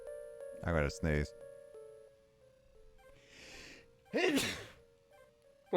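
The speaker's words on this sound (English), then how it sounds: "I gotta sneeze." A person's sneeze indoors, preceded by two sharp gasping inhales and then a loud, close burst, with quiet background hum and a brief voice at the end.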